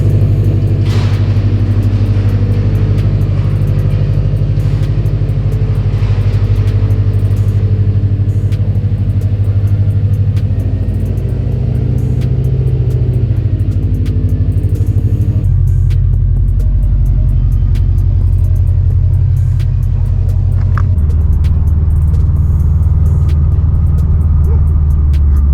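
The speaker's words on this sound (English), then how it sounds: "So we went and drove the car and it's rubbing and whatnot." A 2019 Subaru STI driving on newly fitted wheels with tires rubbing, its steady engine and road rumble loud and continuous throughout, the tone shifting as it changes speed.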